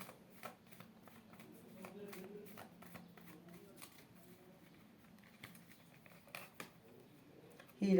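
Oracle cards are shuffled by hand to draw a sign card, a soft, quiet riffling and patter of card edges repeating through the passage, with a faint low voice murmuring underneath.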